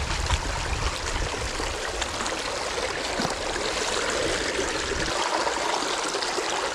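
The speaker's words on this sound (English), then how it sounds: "create a little contraption to keep nice flowing cool water in this bait bucket" Creek water pouring and gurgling through a tilted bait bucket, a steady rushing trickle that runs without pause, close and fairly loud, with no voices over it.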